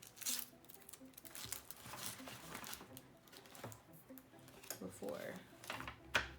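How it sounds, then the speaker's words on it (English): Embroidery stabilizer being torn away from an in-the-hoop mini bag purse, a run of rough ripping and crinkling bursts close by, with a person talking over it. "Tear it off."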